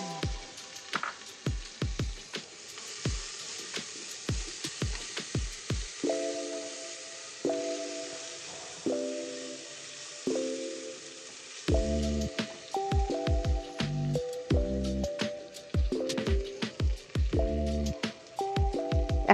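Chopped onion goes into hot oil in a pan while mutton curry with green peas is cooked, giving soft sizzling punctuated by scattered clicks and sharp taps of utensils, with periodic tonal beeps layered over it.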